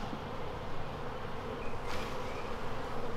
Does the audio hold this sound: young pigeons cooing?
no